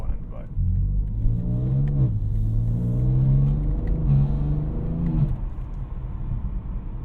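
A BMW G80 M3 Competition accelerates from inside the cabin, its engine rising in pitch through a couple of quick short-shifted gears, each upshift dropping the tone before it climbs again, a loud raspy drone that settles as the revs fall.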